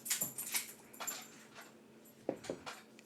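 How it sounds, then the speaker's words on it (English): Dogs at an evening ground training session in the background: scattered faint whimpers and short yelps with some clattering, distant and intermittent. "the dogs are back there doing their evening ground training session"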